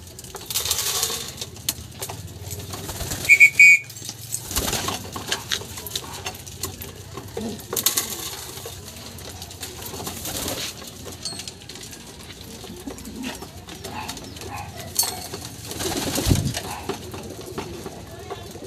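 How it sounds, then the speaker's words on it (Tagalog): Pigeons feeding on scattered grain, with pecking patter, a few sharp clinks and scattered soft coos; someone talks over it at intervals in Tagalog. "So papakainin ko muna sila mga idol."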